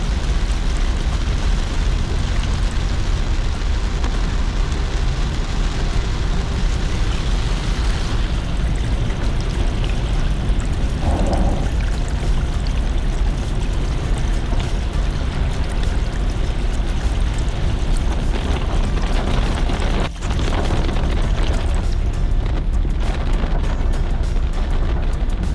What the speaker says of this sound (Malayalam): പാലങ്ങളിൽ നിന്നൊക്കെ ഉള്ള ഈ ജലം ഇങ്ങനെ ശക്തമായിട്ട് റോഡിലോട്ട് വീഴുന്നത്